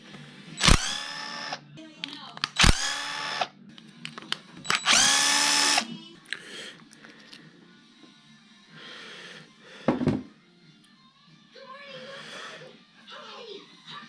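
Power drill loosening four bolts on a Maxx-Zilla with a broken center pin, several short loud whirring bursts in quick succession, then quieter clanking and handling noises with occasional speech.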